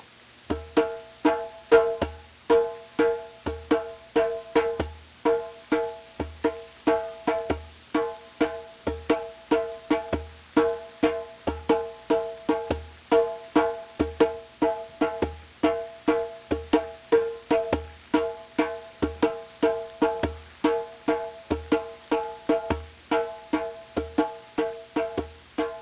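Hand drum played solo in a steady, fast repeating beat, sharp slaps and tones alternating with deep open bass-hand strokes, close and clear with no talking.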